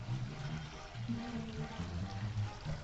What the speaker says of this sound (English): we do have a running water feature. We do have the sound of the river.